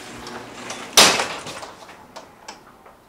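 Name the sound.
garage door being opened and breaking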